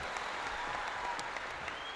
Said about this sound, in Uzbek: Bahrom Nazar bir chiroyli qarsak chalib qo'ysanglar